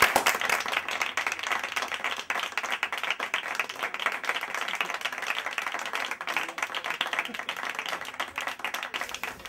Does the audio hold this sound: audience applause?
yes